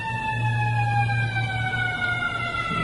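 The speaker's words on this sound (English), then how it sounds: "I'm not commenting on the siren because this is where I live. I get to hear them all the time." An emergency vehicle siren wails steadily outside, clear and fairly loud with a sustained tone and no talking over it.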